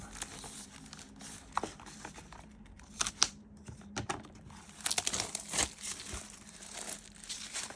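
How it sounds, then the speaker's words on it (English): Plastic covering is peeled off a binder in soft, close crinkles and scattered rustling bursts, fairly quiet, with small taps as it is handled. "Take all the plastic covering off it."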